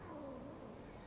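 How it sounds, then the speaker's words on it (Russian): A cat gives a faint, drawn-out meow, a quiet tonal call that wavers slightly, heard alone at close range. "Вот это кот."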